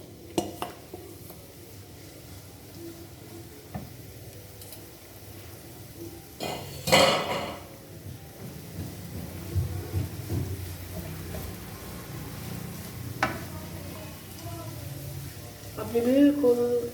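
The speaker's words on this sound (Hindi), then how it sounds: "देखिए हमारी बंद गोभी फ्राई हो रही है" Shredded cabbage fries in hot oil in a frying pan, a low steady sizzle broken by occasional metal clanks of stirring utensils, with someone talking over it.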